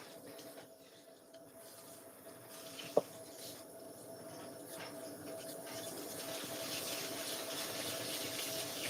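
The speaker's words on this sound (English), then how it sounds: "Just rinsing in the direction of the hair." A faucet running into a sink while a synthetic wig is rinsed under it, a steady soft hiss of flowing water that grows slightly fuller over time, with one sharp click near the middle.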